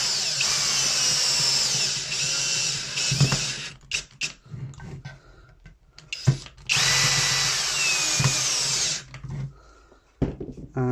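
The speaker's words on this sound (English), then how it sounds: "nice and slowly just drill it through." A power drill drives screws into wood held in a TREND pocket hole jig: two long, loud whining bursts of drilling separated by quieter clicks and handling knocks, close up and without talk.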